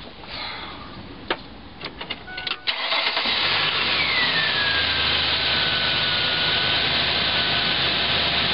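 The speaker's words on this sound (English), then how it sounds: "And let's start her up." A Ford Explorer's engine is started after an alternator replacement. The starter clicks and cranks briefly, then the engine catches and settles into a steady, even idle that stays loud and close until the end.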